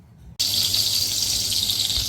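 Tap water suddenly bursts on and gushes steadily over rice being rinsed in a home kitchen, a loud, continuous hiss with a faint rattle underneath and no voices.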